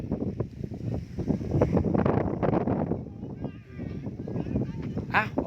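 Wind gusts buffet the microphone outdoors in a garden beside a pond where trees are being planted, a steady low rumbling roar that swells and eases over several seconds, with faint talk underneath.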